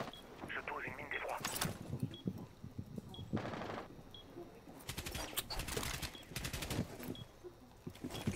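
Bursts of gunfire in the video game Rainbow Six Siege, rapid rattling volleys clustered in the second half and a shorter burst earlier, with players talking over them.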